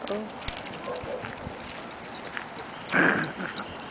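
A single dog bark rings out near the end amid outdoor murmur at a dog park, faint voices and scattered clopping footsteps in the background.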